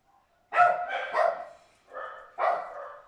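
Several dogs bark in short bursts, a cluster of three quick barks followed by two more, fairly close, in a workshop setting while a Tamiya M05 radio-control car is being assembled.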